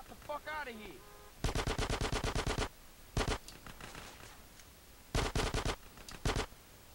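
Rapid automatic gunfire in GTA San Andreas, several loud bursts of machine-gun fire separated by short pauses, with a few single shots and a brief voice-like sound at the start.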